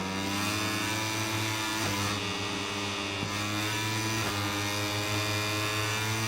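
Moto3 racing motorcycle engine in MotoGP 22 at San Marino, a steady droning whine with harmonic layers holding near one pitch, dipping briefly around gear changes, continuous and fairly loud with no talk.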